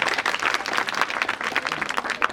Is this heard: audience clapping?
yes